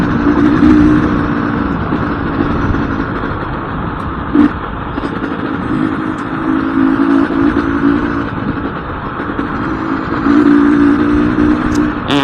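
A motorcycle being ridden, its engine droning steadily and fairly loud with rises and dips in revs, a brief thump partway through, and no speech.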